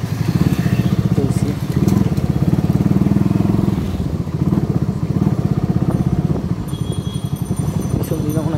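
A motorcycle in poor condition idles and runs steadily close by on a muddy stretch near Bailey Road, its low throbbing engine note continuous throughout, with a brief dip and rise midway.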